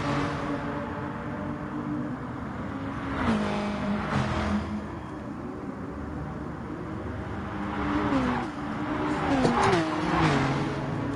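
Race cars roar around a track in a racing video game, engines droning and shifting pitch steadily throughout, with a couple of louder surges as cars pass or rev near the wall.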